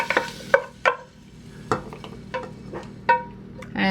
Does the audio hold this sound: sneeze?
no